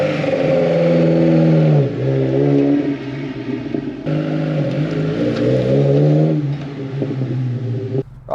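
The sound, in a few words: car engine with Weber twin 45 carburettors running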